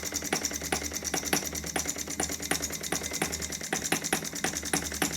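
A small Sterling Kit M12b spark-ignition petrol model engine idles steadily nearby, a fast even ticking chatter over a low drone, running without a break.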